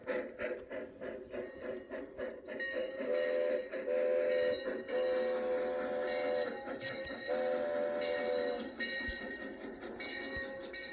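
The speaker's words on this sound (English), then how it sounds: "train has functional lights and plays train sound effects and music" Harry Potter toy train playing its built-in train sound effects, a steady mechanical rumble with chugging pulses and sustained whistle-like tones, fairly loud and continuous with no talking.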